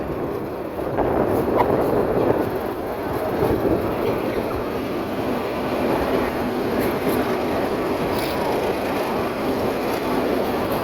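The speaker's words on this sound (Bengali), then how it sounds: "ট্রেনটি বাঁক নিয়ে সামনের দিকে এগিয়ে চলছে" A Narayanganj commuter train on the Dhaka run rolls along and leans into a curve, heard from inside a coach as a steady, close rumble of wheels on rails with faint clicks and rattles, and no talking.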